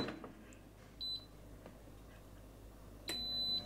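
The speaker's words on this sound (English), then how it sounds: "Now I'm gonna pop them in the air fryer to get them crispier" An air fryer gives two short, faint electronic beeps as it starts, a couple of seconds apart, over a quiet background.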